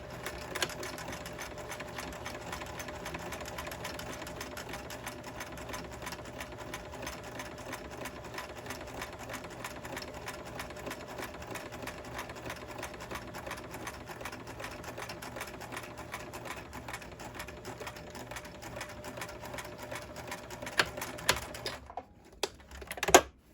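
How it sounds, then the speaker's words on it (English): A sewing machine runs a seam in a steady, continuous stitching rattle, ending with a short back stitch. The machine is close and alone, then stops abruptly near the end with a few handling clicks. "And now the same here. Back stitch."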